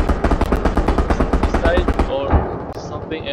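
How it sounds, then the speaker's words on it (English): Enemy gunfire in the World War II shooter Hell Let Loose comes as loud, close rapid bursts in a steady rattling rhythm for about two seconds, then it breaks off and other game sounds follow, with a voice speaking over it. "they're shooting me"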